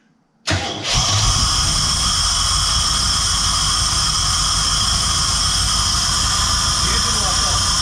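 After a brief silence, a van engine cranks and catches, then settles into a loud, steady idle that runs on without a break.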